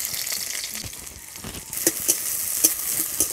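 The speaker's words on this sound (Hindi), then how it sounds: "जीरे भाजा हो गए, दे दीचे प्याज कुची।" Chopped onions hit hot oil with toasted cumin and sizzle steadily, a close hissing crackle that swells and adds a few sharp spits partway through. No voices are heard.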